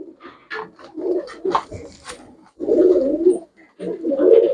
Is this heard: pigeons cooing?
yes